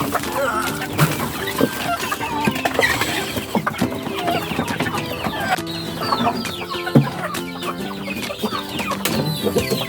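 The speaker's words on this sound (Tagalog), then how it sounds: "Tara, at samahan nyo na ako magpakain ng ating mga manok." Backyard flock of chickens clucking and squawking at feeding time after a fresh delivery of feed, a steady busy chorus of overlapping calls close by, with no talk.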